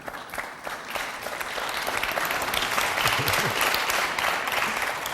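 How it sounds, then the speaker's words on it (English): An audience at a Scottish leaders' political debate breaks into applause, starting moderate and swelling into a sustained, fairly loud clatter of hands that holds to the end. "I think it does deserve a round of applause."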